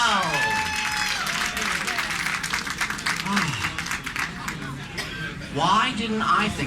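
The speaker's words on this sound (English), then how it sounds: "Make some noise for Chanel." A crowd applauds and cheers steadily at a drag pageant, with a voice talking and laughter mixed into the noisy clapping throughout.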